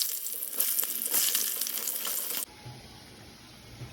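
Potatoes frying in hot oil for a picnic-style mutton dish give a loud, dense sizzle for a couple of seconds, then it drops abruptly to a quieter, steadier crackle.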